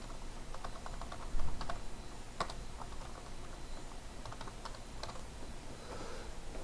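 Soft computer keyboard typing, scattered clusters of light key taps with irregular pauses between them and an occasional louder knock, faint and close, with no voices.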